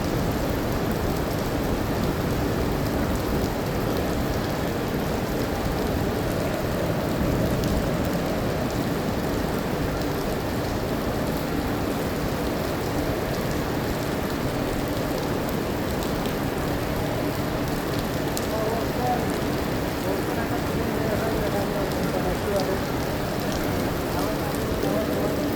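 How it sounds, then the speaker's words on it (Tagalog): Dense, steady downpour hisses continuously without a break, loud and close, with faint voices mixed into the wash. "Sa kapal ng ulan."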